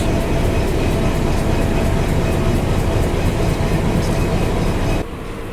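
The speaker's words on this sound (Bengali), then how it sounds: "তিন মিনিটের বিলম্বে সকাল ছয়টা তেত্রিশ মিনিটে ট্রেন ছেড়ে গেল কমলাপুর রেলওয়ে স্টেশন" Parabat Express, hauled by locomotive 2936, pulls out of Kamalapur railway station with a loud, continuous rolling roar and rhythmic wheel clatter, then the noise drops off sharply near the end.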